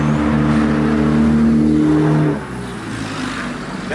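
Kawasaki KLR motorcycle engine revving close by, a loud steady roar that holds for about two seconds and then drops to a lower idling rumble.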